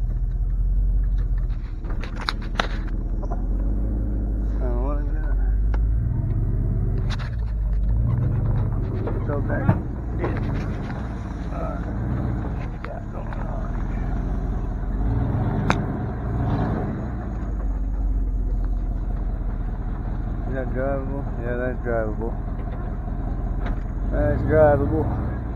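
A truck engine rumbles low and steady while driving off-road by a river at night, rising and easing with the terrain, with people talking over it throughout.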